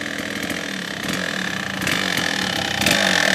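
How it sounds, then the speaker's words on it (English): Dirt bike engines putter and idle nearby with a steady, raspy mechanical drone that swells slightly in loudness, outdoors on the way to Fitton Cave. "Ride some dirt bikes to the caves and let the rookies walk"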